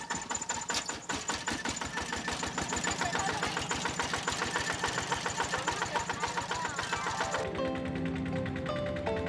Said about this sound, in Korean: 경운기 엔진 소리 또한 정겹게 느껴진다.